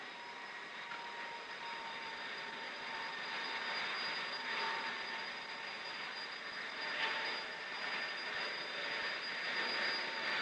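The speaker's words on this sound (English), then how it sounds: "On November 12, the Avrocar made its first free flight." Avrocar disc aircraft in free flight, a steady droning engine roar with a sustained high whine, constant and moderately loud throughout with no talk.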